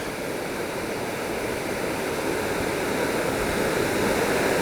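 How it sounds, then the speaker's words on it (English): A river waterfall tumbling through rocks in a series of falls at Valley Falls State Park, West Virginia: a steady, loud broadband rush of water that holds constant and swells slightly, with no voices. "There's the next waterfall there."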